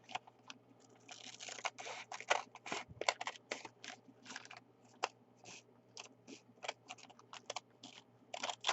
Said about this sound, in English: I'm going to cut the bottom off of the bag here